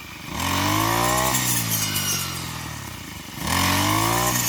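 An engine-powered grass cutter revs up loudly and close, holds a strained drone while cutting grass, eases off, then surges again near the end.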